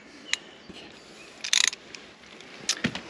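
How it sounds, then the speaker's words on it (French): A ratchet wrench turns a hex bit held in a socket during oil-change work on a converted heavy truck. Brief, quiet bursts of rapid clicking are separated by pauses, with no talk. "c'est un embout à 6 pans que l'on met dans une douille et sur la clé à cliquer"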